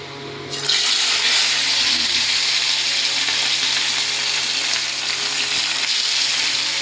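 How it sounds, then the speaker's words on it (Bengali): Tilapia seasoned with chilli powder, salt and turmeric hits hot oil and erupts into a loud, dense, steady sizzle that carries on unbroken at close range. "তেলটা গরম হয়ে গেছে। তো আমার এদিকে ম্যাগনেট করে রাখা ছিল তেলাপিয়াটা, শুকনো লঙ্কার গুঁড়ো, লবণ, হলুদ দিয়ে। এবার এক এক করে ভাজা হোক।"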